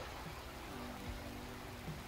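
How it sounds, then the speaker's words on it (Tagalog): Heavy rain pours down in a steady, dense hiss with no gaps, fairly quiet and constant throughout, with faint low murmurs underneath. "Ang lakas kasi DJ ng ulan"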